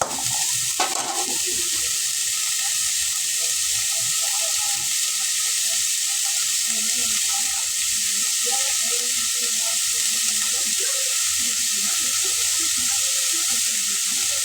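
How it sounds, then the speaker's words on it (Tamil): Onions sizzle and fry in a pan as they are stirred. A steady, loud hiss continues throughout, broken by the soft scrape of the stirring. "வெங்காயம் போட்டு கலந்துக்கணும் நல்லா வகையும் வரட்டும்"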